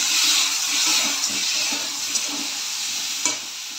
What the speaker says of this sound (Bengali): নুন হলুদ দেওয়ার পরে আবার একটু নেড়ে চেড়ে নিলাম। এবার কাঁচা লঙ্কা আর টমেটো দিয়ে দিলাম।